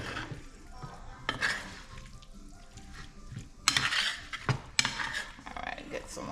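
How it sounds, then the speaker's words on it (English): Ackee and saltfish stirred in a pot, with close scraping and clattering of a utensil against the metal over a low sizzle, the strokes coming in irregular bursts. "Just giving it a last minute stir."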